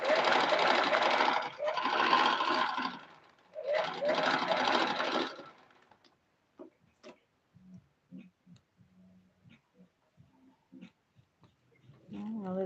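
A sewing machine stitches Ankara fabric for a head dress in two loud, steady bursts of a few seconds each, then falls quiet. Soft handling clicks and light fabric rustling follow.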